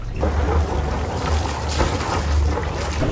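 Engine idling on a Dufour 460 Grand Large sailboat, a steady low rumble under continuous wind and water noise, with no talk.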